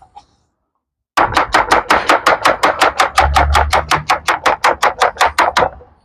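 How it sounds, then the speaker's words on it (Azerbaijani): A knife chops onions lengthwise in an Azerbaijani restaurant kitchen, giving about twenty quick, evenly spaced, sharp thuds on a board. The steady rhythm is close and loud and runs for several seconds after a brief pause. "Bundan ötürü bizə lazımdır soğanı doğramaq uzun-uzun."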